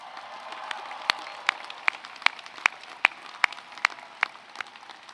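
A commencement crowd of graduates applauds, steady dense clapping with sharp louder claps cutting through at a regular rhythm, filling the space evenly.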